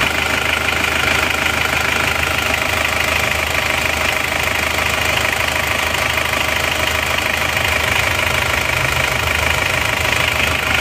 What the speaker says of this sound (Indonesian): Hidupnya seperti ini, lumayan halus ya, lumayan halus.